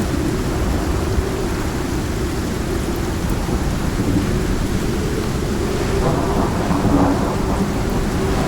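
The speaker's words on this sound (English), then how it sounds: "You can see it's a pretty bad storm." A severe thunderstorm in the survival video game Icarus brings steady, loud rain and deep rolling thunder rumbling underneath, continuous throughout with no speech.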